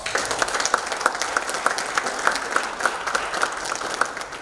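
A seminar audience in Hyderabad applauds together, a lively crowd of clapping with a few crisp claps popping out in a roughly regular rhythm above the wash.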